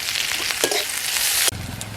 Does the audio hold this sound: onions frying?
yes